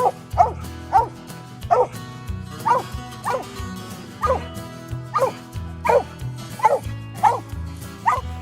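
A coonhound hunting raccoon on a cold winter night barks and yips repeatedly at a tree, about a dozen sharp calls in an even rhythm, clear and fairly close.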